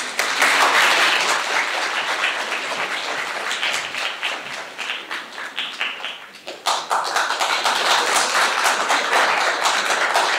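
An audience applauding at the launch of an online digital platform, a dense and loud burst of many hands clapping together. It dips briefly midway, then surges back.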